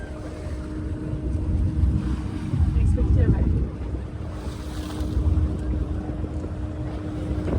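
A motorboat cruises on a tour off Hurghada, its low engine rumble mixed with wind buffeting the microphone and water washing against the hull, steady and close.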